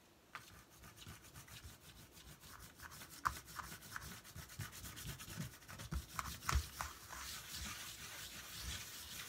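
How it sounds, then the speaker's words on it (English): A whole table being erased from a board by hand, with steady scrubbing strokes repeated over several seconds, soft and close, with no talk. "I'm going to have to rub out this, the whole table,"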